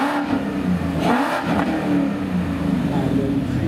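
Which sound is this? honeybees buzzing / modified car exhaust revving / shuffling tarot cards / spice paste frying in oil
modified car exhaust revving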